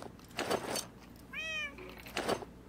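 A single clear cat meow from a video game, rising then falling in pitch, sounding in the middle of faint background bursts of noise.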